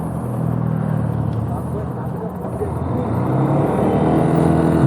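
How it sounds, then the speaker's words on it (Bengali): A Bajaj Pulsar NS 160 motorcycle engine steadily revved on the throttle in gear during chain maintenance, a sustained droning hum that builds slightly louder toward the end. "ভিজিয়ে নেওয়ার পরে এখন আমি এটারে জোরে জোরে থ্রটল দেব"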